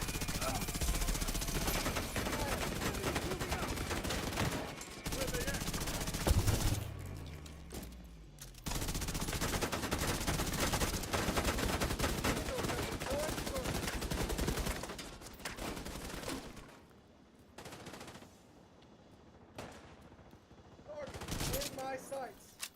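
Sustained machine gun fire in The Division 2, long loud continuous bursts with brief pauses and game chatter mixed through.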